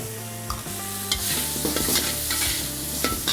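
Close-up frying of fried rice with curry paste and chicken stock in a wok, with scraping stirs and bursts of sizzle, a spatula clattering against the metal every moment or so.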